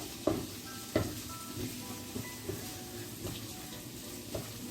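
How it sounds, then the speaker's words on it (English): Onion and garlic sizzle in a pan while being stirred for a Rioja-style cod dish, a steady soft frying hiss broken by a few sharper scrapes and clatters of the utensil against the pan. "Now let me stir this a bit."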